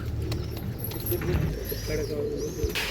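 Pigeons coo softly in a low, throaty burble, with a few chirps and flutters over a busy background and faint voices nearby.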